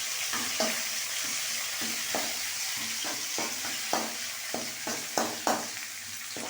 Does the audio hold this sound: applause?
no